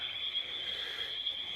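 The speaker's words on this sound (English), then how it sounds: "If you can't hear, I got probably 3 million frogs." A dense night chorus of frogs croaking near a tent, a steady shrill trilling that holds without break, fairly loud and continuous with no talk over it.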